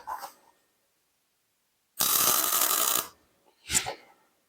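Welding on the front wheel bearing of a 1977 VW Bus, one loud crackling burst of about a second, flanked by brief softer noises before and after.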